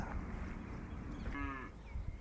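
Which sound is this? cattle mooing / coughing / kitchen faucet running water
cattle mooing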